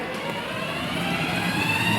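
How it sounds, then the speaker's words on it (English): Steady droning motor of a Power Wheels ride-on toy vehicle, a continuous close whir with no breaks over the two seconds. "Got a nice engine sound to it."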